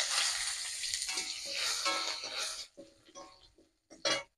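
Bay leaf, dried red chilli, five-spice seeds and crushed ginger hit hot oil for a curry, producing a loud, close, steady sizzle that fades into sputtering pops and crackles.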